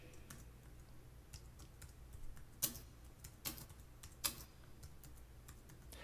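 Soft, quiet tapping on a computer keyboard at close range, with irregular keystrokes and a few sharper clicks over a faint background hum.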